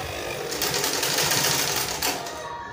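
A sewing machine stitching a tulle ruffle on a baby girl's cupcake dress runs in one continuous, steady whir at close range, easing off slightly near the end.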